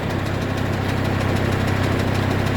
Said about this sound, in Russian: Так, давайте запустим фрезу. У нас здесь трехскоростной вал отбора мощности.